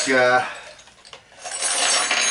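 A handmade spoon ring falls onto a hard surface, making a bright metallic clink with a short ringing tone, followed by quieter rattling and rubbing.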